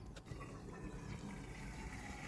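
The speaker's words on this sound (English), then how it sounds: "So we can hear the rest of the water draining into the sump" Water drains steadily into an aquarium sump during a water change on a Red Sea E260 reef tank, a faint continuous trickling and gurgling with no voices.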